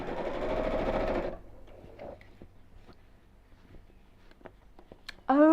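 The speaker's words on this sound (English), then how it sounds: "I'm literally just sewing all the way around the top." A sewing machine stitches all the way around the top of a piece of fabric, running in a loud, steady whirr for just over a second, then stopping into quiet ticks and small clicks before a brief restart.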